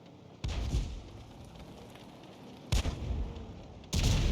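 Three heavy booming cannon shots from a tank in a World War II video game, each a loud low blast with a rumbling tail, spaced a couple of seconds apart, close and without any voices.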